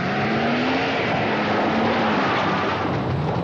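A BMW car drives off-road, its engine giving a steady loud roar with broadband rumble throughout and no talk.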